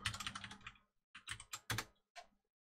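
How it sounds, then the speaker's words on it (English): An email address is typed on a computer keyboard in fast close bursts of crisp key clicks, broken by brief silent pauses. "I just type in my email address."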